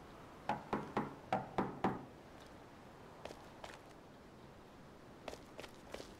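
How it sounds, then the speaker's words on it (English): Someone knocks on a door in the survival video game Rust: a quick burst of five or six sharp raps, then a few fainter, scattered knocks and taps after a pause, with no talk. "stop knocking on the fucking door, blue team"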